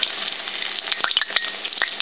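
Wontons deep-frying in hot oil, a dense steady sizzle and crackle close by, with a few light clicks and taps of a utensil moving them in the pot.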